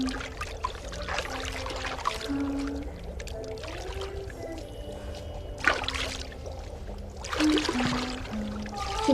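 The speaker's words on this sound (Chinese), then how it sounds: "姐姐给你冲水啊" Water is poured over a person to rinse them, with soft splashing and trickling at a low level for several seconds and no clear talk.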